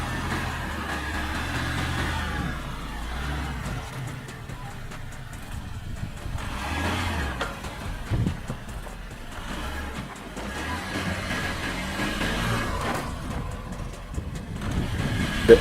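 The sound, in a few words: Audi Q8 SUV driving through diagonal suspension test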